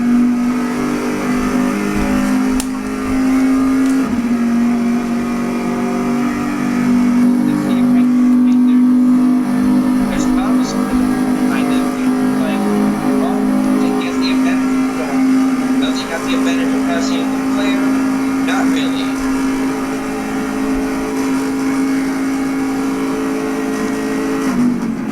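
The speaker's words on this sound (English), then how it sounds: "time now to go on board for some pure sound from Brian LaFleur Jr.'s Corvette" Onboard engine of Brian LaFleur Jr.'s Corvette race car in an endurance race, a loud, steady high-revving drone held nearly throughout with brief shifts in pitch and no talk over it.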